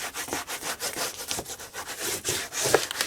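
Double-sided tearing tape rubbed firmly onto decorative paper during a recipe-book papercraft project, giving a steady dry scraping and rubbing in quick repeated strokes, close and fairly loud with no talking.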